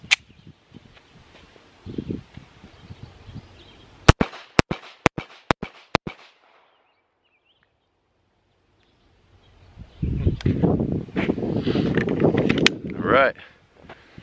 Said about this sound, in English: I'm gonna put 5 rounds from 5 yards on the right target.